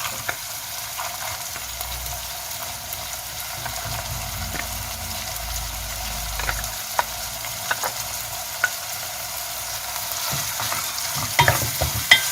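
Cobs fry in a pan for Iranian gheimeh, a steady close sizzle with occasional stirring clicks and scrapes, no voices.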